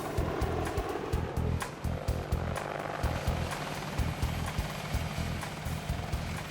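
Apache Longbow attack helicopter, its rotor beating in a steady, rapid low thump that runs continuously at moderate distance with no voices.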